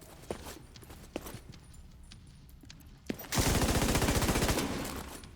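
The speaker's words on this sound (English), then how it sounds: "Somebody's firing grenades at me." Rapid burst of heavy automatic fire and launched grenades in a shooter video game, a loud sustained rattling volley after scattered sharper shots and thumps, with no talk.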